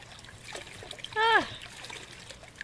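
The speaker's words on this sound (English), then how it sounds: "Yikes, the water! Is the faucet busted?" In The Crooked Man video game, water trickles and splashes from a busted faucet, a soft steady dribble broken by a brief startled vocal exclamation.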